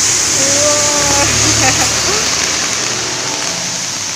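Heavy rain pours during a flood in Fukui, Japan, a dense, constant hiss of water throughout, with brief faint tones and background noises mixed in early on.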